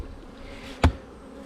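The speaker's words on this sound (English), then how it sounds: "There's actually a lot of bees flying with the pollen" A honey bee zips close past the hive entrance in one brief, loud buzzing pass, set against a soft hum of other bees flying with pollen.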